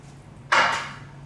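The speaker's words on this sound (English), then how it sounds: "you're literally just gonna drain this turkey out" Water drains from the cavity of a brined turkey into a kitchen sink: a sudden rushing splash starts about halfway through, then tapers off gradually.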